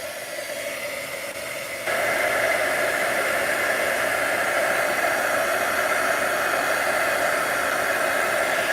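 A heat tool switches on and blows a steady, loud whooshing hiss over an embossed paper card, rising in level after a couple of seconds and holding constant.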